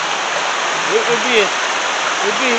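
A waterfall in a rocky river gorge gives a steady, loud rushing roar that stays even throughout, with a faint voice murmuring briefly underneath.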